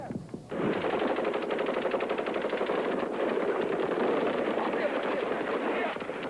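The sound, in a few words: gunshots fired into the air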